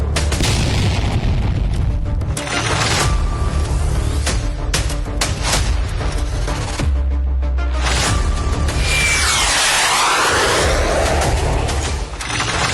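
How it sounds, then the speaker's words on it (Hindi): A BrahMos missile combat test launch over the Bay of Bengal makes a loud, continuous roaring boom lasting the whole span, with a rising rushing swell near the end. No voices are heard. "इस ब्रह्मोस मिसाइल का कॉम्बैट टेस्ट हुआ है आज"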